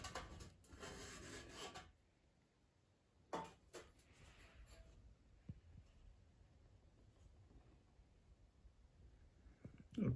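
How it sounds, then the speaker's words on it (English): Sharp edges of saxophone tone holes being deburred with a piece of aluminum foil: a close, scratchy crinkling rub for about two seconds, a brief second burst, then near silence with faint handling. "I will deburr the sharp edges with a piece of aluminum foil."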